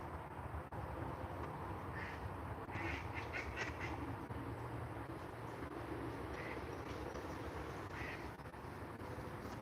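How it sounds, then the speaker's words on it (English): A mallard duck quacking outdoors at a distance, several short bursts of quacks scattered over a constant low rumble of background noise. "they were hurting my mallard duck out there"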